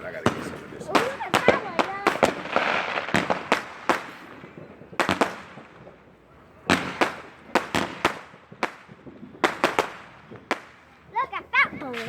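Fireworks go off in a fast string of sharp cracks and pops, clustered in bursts with short gaps between volleys, loud and fairly close, with some crackling trails and scattered voices in between.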